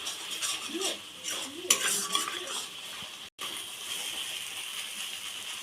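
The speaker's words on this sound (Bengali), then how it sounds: "জল দিলে তেলটা ছাড়ে, দিয়ে ভালো করে কষিয়ে নেব।" Spice paste for a fish curry is stir-fried in oil, the spatula scraping and knocking against the pan over a steady sizzle, with a brief clatter in the middle and a short silent cut.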